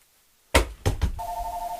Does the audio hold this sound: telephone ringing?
yes